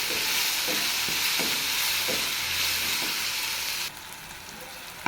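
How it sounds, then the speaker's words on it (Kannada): Tomatoes fry in a pan with a dense, steady sizzle and several soft stirring scrapes, the hiss dropping a little quieter in the final second. "ಈ ಟೊಮ್ಯಾಟೊ ಬಂದು ಫುಲ್ ಸಾಫ್ಟ್ ಆಗೋವರೆಗೂ ಇದನ್ನು ಫ್ರೈ ಮಾಡ್ಕೋಬೇಕು"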